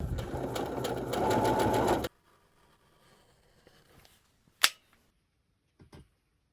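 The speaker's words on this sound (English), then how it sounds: "Let's go ahead and sew the waistband to the trouser now." A sewing machine stitches a waistband onto a trouser in a fast, even burst lasting about two seconds, then stops, leaving near silence broken by a few faint clicks.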